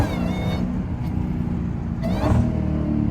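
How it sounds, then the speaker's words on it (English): A Dodge Hellcat revs and pulls hard on a cold day. The engine's rising, throaty roar sounds close and strong and swells near the end, with no voices over it. "Car pulling hard"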